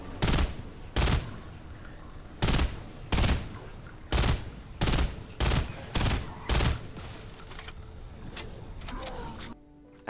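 Bursts of LYNX FAMAS gunfire from the game Fortnite Save The World, loud sharp three-round volleys repeating about ten times with short gaps over a steady in-game background hum.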